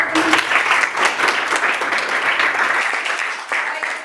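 Classroom applause from students, a burst of brisk, fairly loud clapping from a group that carries on for several seconds, then cuts off abruptly, leaving quieter room tone.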